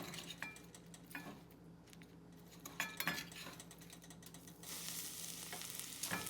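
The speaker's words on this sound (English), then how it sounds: "So we're going to very carefully place our dandelions in the oil." Dandelion fritters go into hot frying oil: light utensil clinks and taps give way to a steady, rising crackling sizzle in the final seconds, with no voices.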